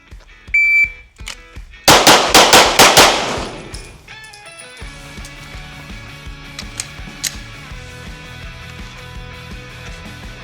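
Pistol shots ring out during a shooting drill on a range: a rapid string of loud, close, sharp cracks after a lone beep, with electronic timer beeps and ringing echoes following.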